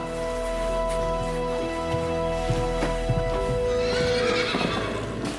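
Horse neighing in a quiet rural setting: a long, loud whinny that rises and trembles near the end, with faint hoof shuffles and a steady low hum underneath.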